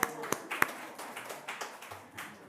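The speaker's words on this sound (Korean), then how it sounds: "박수." Scattered applause from a church congregation during a sermon, a few sharp claps followed by soft, uneven clapping that fades quickly, fairly faint in a quiet room.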